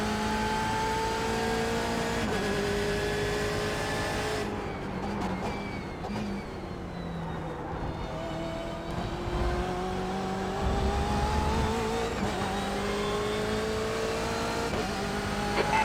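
A race car sliding at the rear in the iRacing driving game: a steady, loud engine drone with rising and falling pitch as it works through corners, with a brief dip when the car lifts off the throttle.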